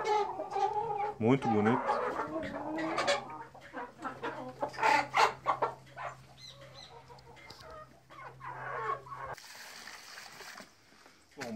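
A Brahma rooster clucks and crows nearby while someone speaks briefly, followed by a burst of hissing noise near the end.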